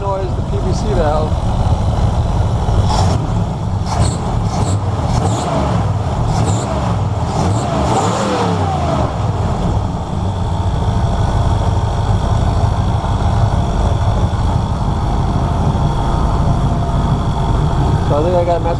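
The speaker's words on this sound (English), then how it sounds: "That rattling noise is the PVC valve." A 305 V8 with a new carburetor idles loudly and steadily up close, with a rattling PCV valve adding a light, irregular clatter over the low rumble for the whole stretch.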